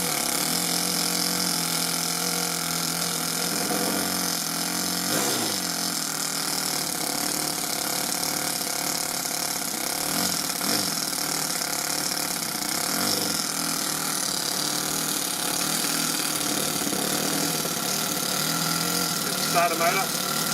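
A Toyan FS-S100G model engine, fitted to an RC car, running with a steady, dense mechanical whir and rattle that continues throughout, close and loud.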